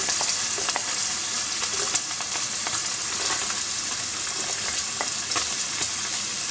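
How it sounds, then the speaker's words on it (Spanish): Onion and garlic sizzle steadily in a hot pan, a loud close hiss with scattered clicks and scrapes as they are stirred; no voices. "Bien, sofreímos un poquito."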